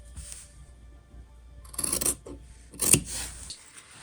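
Fabric for a DIY sewn wallet being cut with scissors, giving two short bursts of close, crisp snipping and rasping separated by quiet handling rustle.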